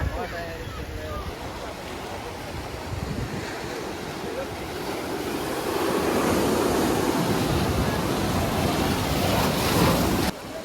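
Sea waves wash the shore at Kanyakumari, a steady broad roar of surf mixed with wind buffeting the microphone, swelling louder in the second half before cutting off sharply near the end.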